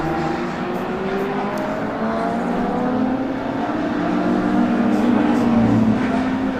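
Classic touring race cars, including a Camaro, at Brands Hatch: a continuous broad engine roar as several cars pass, swelling slightly toward the end, with commentary talk over it.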